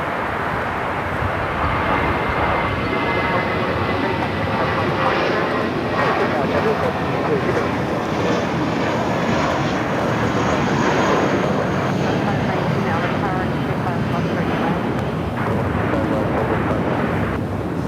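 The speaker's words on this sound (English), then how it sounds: "A350 taking off on there on the north side" An Airbus A350 airliner takes off, its engines a broad, constant roar heard from a distance that holds throughout.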